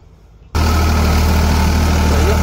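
A Farmtrac 45 tractor engine starts up sharply and then holds a steady, loud, low diesel drone near 1700-1750 rpm, with a constant hum and no gaps.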